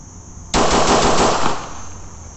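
A Glock 19 Gen 5 pistol fired at a 5-meter range lets off a rapid string of close, loud gunshots in about one second, followed by quieter room tone.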